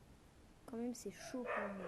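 A pet dog gives a few short barks or yips close by, mixed in with a person speaking French over a steady background hiss.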